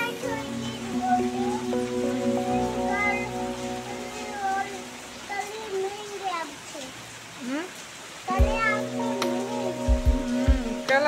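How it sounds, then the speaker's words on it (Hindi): Heavy monsoon rain keeps up a steady hiss and patter throughout, while children chatter and play nearby, with occasional thumps close by. "बड़ी बारिश हो रही है।"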